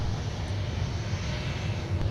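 A Delta jet airliner taxiing at Minneapolis–Saint Paul airport gives a steady, continuous engine rumble and whine, moderately loud and unbroken.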